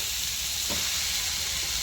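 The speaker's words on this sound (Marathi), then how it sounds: "आता आपण खोया भाजायचा." Khoya, milk solids, roasting in a pan with a constant close sizzle and a brief stirring scrape partway through, no voices.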